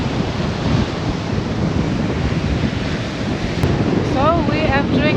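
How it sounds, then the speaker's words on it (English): Strong wind buffets the microphone at the northern tip of Denmark in Skagen while ocean surf rolls in with a loud, constant roar. A few brief high chirping calls break through near the end. "It's really windy."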